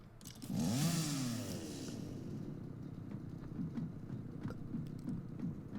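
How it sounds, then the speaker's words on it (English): A new chainsaw in the video game Satisfactory revs up loudly, then settles into a steady, slightly quieter buzzing drone that runs to the end, with no talk over it. "This is the new chainsaw."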